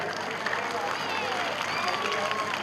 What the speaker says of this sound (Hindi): प्लीज उनके लिए तालियां बजाएं।